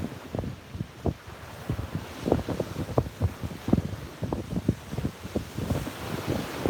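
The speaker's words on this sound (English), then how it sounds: "this is the Atlantic Ocean" Atlantic Ocean at South Beach, Miami Beach, Florida: wind buffets the microphone in uneven gusts over a low rumbling wash of waves, with no talking.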